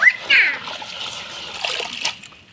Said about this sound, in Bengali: এবার কচুগুলা ধুয়ে নিব।